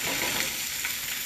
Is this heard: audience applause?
no